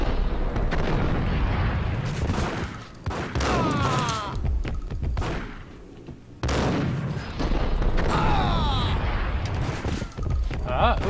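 Gunfire and explosions in the Max Payne shooter game come as loud bursts of shots and booming blasts in two heavy clusters, with a quieter gap between them and a voice talking over parts of it.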